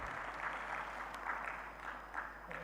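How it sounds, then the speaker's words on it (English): Applause for the Minister of Trade at a convention center trade event sounds as faint, distant, steady clapping from an audience, with a low hum underneath and no clear voices. "Another round of applause for the Minister of Trade."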